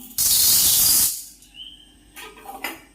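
Chana dal roasting in a little sesame oil for idli podi gives a loud, close hiss lasting about a second, then quieter moments with a few faint clinks and rustles.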